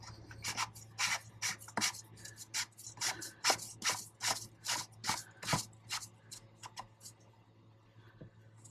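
A plastic fuel filter cap threaded by hand onto plastic threads on a 6.7L Ram Cummins, a quiet close series of quick ticking, rubbing clicks in a steady rhythm that thins out toward the end.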